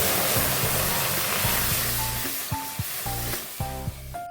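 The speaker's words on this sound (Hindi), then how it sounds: "गैस में कढ़ाई रख दिए है। अब मेरी मम्मी इसमें पानी डाल देंगे।" Water poured into a hot kadhai (wok) on a gas stove at home while fish kabab is prepared, giving a steady rushing hiss with a few short clanks and bumps toward the end, close and fairly loud.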